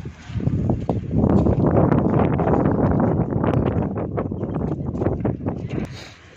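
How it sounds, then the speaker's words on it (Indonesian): Strong wind buffets the microphone at an outdoor morning market in Delft, Holland, giving a loud, continuous rumbling roar that swells and eases over several seconds. "Karena angin juga besar."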